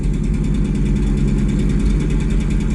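A car engine with no catalytic converter rumbles at a steady idle, loud and close, with a raw, throaty exhaust drone and no voices.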